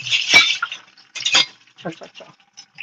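Glass clinking in a home kitchen as a drinking glass is grabbed while cooking, giving a few sharp bright clinks close by with short pauses between them.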